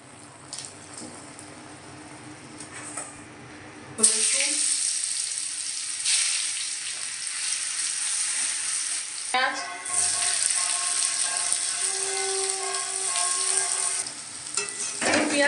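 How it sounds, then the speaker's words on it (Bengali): Dry red chillies hit hot oil as a tempering, bursting into a sudden loud sizzle after a quieter stretch of frying, with scraping stirs and a fresh surge of crackle partway through, close and continuous. "দিচ্ছি শুকনো লঙ্কার ফোড়ন"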